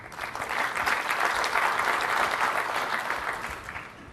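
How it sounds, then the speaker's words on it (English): A programming conference audience gives polite applause, an even wash of many hands clapping that swells and then fades slightly over several seconds, with no voices on top. "Right, polite applause, because,"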